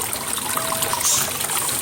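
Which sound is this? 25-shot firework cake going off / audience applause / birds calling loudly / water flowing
water flowing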